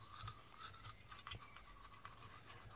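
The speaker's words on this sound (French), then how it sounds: "prenez une brosse à dents. Voilà. Et vous nettoyez ici." A toothbrush scrubs the EGR valve of a 1.6 HDI engine, giving a steady, close bristly hiss broken by short repeated strokes and a few faint metallic clinks, with no talk.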